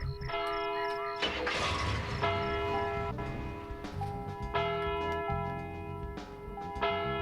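Bells ringing in the video game Deadly Premonition Origins, sustained tonal chimes layered over a rumbling, rail-like background, with several strikes across the stretch and no talking.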